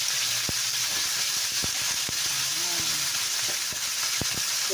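Whole beef pieces sizzle and crackle steadily in a hot frying pan for Filipino bistek, a continuous close hiss with scattered pops and faint utensil clicks, no voices.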